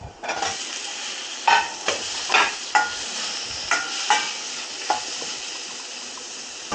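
Tomatoes sauté in a pan for crab curry, with a steady sizzle broken by repeated spatula scrapes and stirring strokes at irregular intervals.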